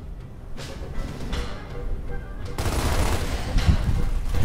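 Rapid gunfire bursts from Gears of War on Insane difficulty, loud sustained volleys building toward the end, with someone talking under the shooting.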